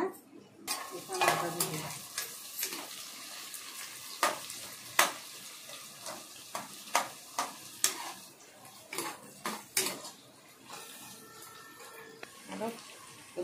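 Onions fry in a pan for biryani, sizzling under frequent metallic spoon scrapes and taps against the pot, with a voice talking at times.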